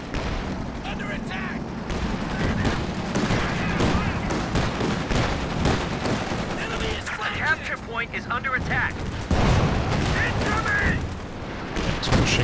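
Machine gun fire and heavy explosive impacts in the real-time strategy game Company of Heroes 2 during a 1v1 match, sustained bursts and rumbling blasts layered under a steady commentating voice.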